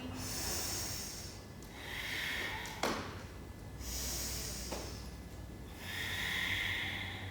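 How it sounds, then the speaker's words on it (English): Ujjayi yoga breathing comes in slow, hissing, ocean-like breaths, long inhales and exhales alternating softly and close-up in a quiet room. "Using Ujjayi breath"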